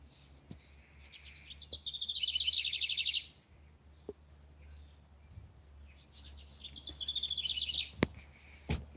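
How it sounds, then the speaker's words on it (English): Birds sing on a sunny morning with hens nearby, giving two bright, trilling song phrases a few seconds apart over a low steady background hum, with a few faint clicks in between. "Just enjoying the songs of the birds"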